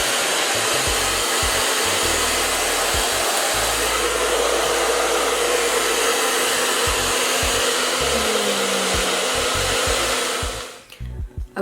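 A hood hair dryer runs on medium heat, making a loud, steady rushing blow of air that continues for about ten seconds before cutting off, followed by a few faint rustles.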